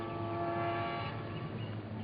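A train heard in a film scene: a faint, steady rumble carrying sustained horn-like tones that hold evenly for the whole two seconds, with no voices.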